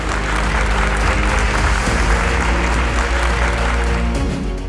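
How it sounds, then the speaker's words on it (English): Keynote audience at a digital business forum in Yerevan, Armenia, applauds a speaker with sustained, dense clapping that stays steady and loud throughout, a full room of hands with no voices breaking through. "Please give a big round of applause for our keynote speaker, Mr. Brett King."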